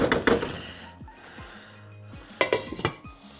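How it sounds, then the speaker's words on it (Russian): A spoon scrapes and clinks against a pot of chicken goulash with potatoes and beetroot, giving sharp metallic knocks in two clusters with a quieter stretch between. "Время от времени помешиваем."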